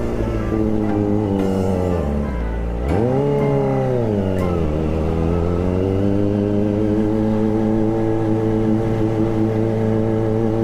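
A Kawasaki Ninja ZX25R motorcycle runs steadily while being ridden, its high-pitched four-cylinder engine whining continuously with a brief throttle dip and swell in the pitch early on, loud and close throughout.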